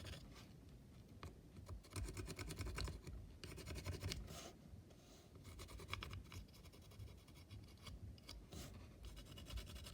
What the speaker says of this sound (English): just taking a graphite pencil and just running it along the edges that would see wear and tear.